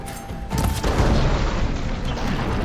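A heavy booming gunshot blast in Horizon Forbidden West, followed by a dense, loud rumble of noise that keeps going to the end.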